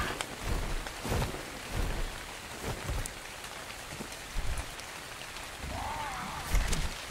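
Steady rain in the game Ark Survival Evolved on The Island map, a constant hiss of drops with soft gusting bursts, fairly quiet and continuous with no talk over it.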